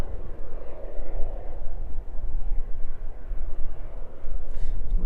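A cargo aircraft climbs away from the runway at East Midlands Airport, its engines giving a steady, fluttering low roar at moderate distance that pulses slightly as it recedes, with no speech over it.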